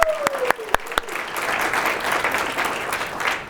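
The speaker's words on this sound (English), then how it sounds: "A round of applause." Audience applause at an unplugged concert event, a steady, full wash of many hands clapping that swells and sustains, with a few sharp individual claps near the start and a whistle-like tone briefly fading out.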